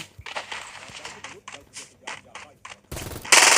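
Gunfire in the mecha shooter game Super Mecha Champions: quick rapid bursts of shots in an uneven rhythm, ending in a louder, denser blast of fire.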